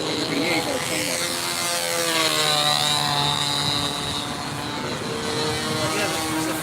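A stunt model airplane's engine drones and buzzes at a distance, rising and falling in pitch as it loops and dives over a park, with people talking nearby.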